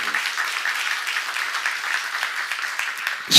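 Steady applause from a church congregation fills the hall for a few seconds, an even wash of many hands clapping at once with no voices over it, ending in a brief louder burst.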